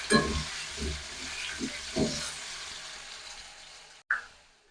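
Potatoes fry in hot oil in a kadai with a moderate sizzle and a few stirring scrapes early on. The sizzle fades before a brief sharp knock near the end.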